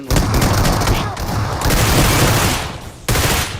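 Heavy shotgun and automatic gunfire in the battle royale game BGMI, with dense, loud bursts filling the stretch and a brief break near the end before firing resumes.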